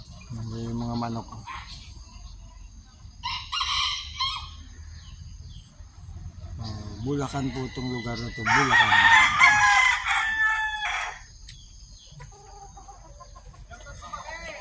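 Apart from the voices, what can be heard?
chickens and roosters crowing on a farm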